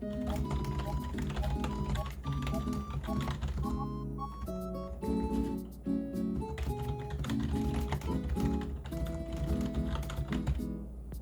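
Typing on a budget computer keyboard from a Five Below store, with rapid close clacking keystrokes in uneven bursts and short pauses over background music, lasting several seconds.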